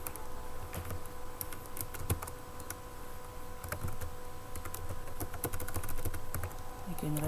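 Computer keyboard typing while writing Python code, a steady stream of rapid, close key clicks over faint room hum, with a brief low voice near the end.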